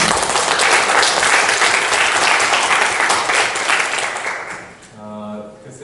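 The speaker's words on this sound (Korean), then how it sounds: "발표자와 토론자 두 분께 박수 한번 주시겠습니다." An audience at an academic Buddhist studies conference applauds the presenters and discussants, loud sustained clapping that tapers off near the end as a voice begins to speak.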